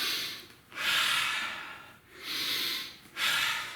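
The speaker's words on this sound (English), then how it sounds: "Take a couple deep breaths" Deep breaths after exercise in a purple-to-black belt martial arts class, three long, airy inhale-exhale cycles close to the mic, each separated by a short pause, with no talking.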